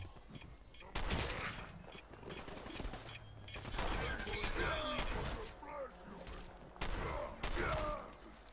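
Bursts of gunfire in the Fallout 4 video game, several loud volleys and single shots spread across the span, with players talking over the shooting.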